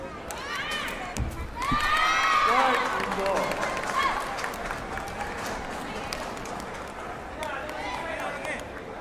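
At a sepaktakraw World Cup match in Bihar, India, a crowd cheers, shouts and claps in a swelling burst that peaks and then fades into scattered crowd noise, with a commentator's voice over it.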